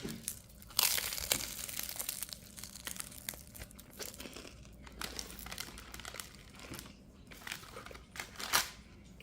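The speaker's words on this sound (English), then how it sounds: "That was just crunchy phyllo dough, nothing else." Crisp crunching and crackling bites of flaky phyllo pastry, close up, in irregular bursts with quieter chewing between.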